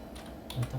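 Typing on a computer keyboard while entering network interface IP and DNS settings, a few soft key clicks followed by two louder keystrokes near the end, quiet and close.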